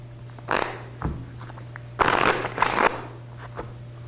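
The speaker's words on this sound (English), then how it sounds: "I'm going to shuffle this regular deck of cards" A regular deck of playing cards is shuffled close by, two brisk riffling bursts with a quieter tap between them and a soft tap at the end, under a faint steady hum.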